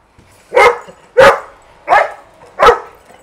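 A large Labrador barks four times in a loud, evenly spaced series of single woofs close to the microphone, with short quiet gaps between them.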